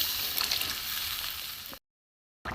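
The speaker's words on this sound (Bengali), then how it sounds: "মশলা ধোয়া জলটা দিয়ে দেবো কষা হয়ে গেছে জল দেবো" Spice-rinsing water poured into fish masala that has been fried down in a pan, a hissing sizzle and splash lasting under two seconds before a short silence and a brief return of the sound.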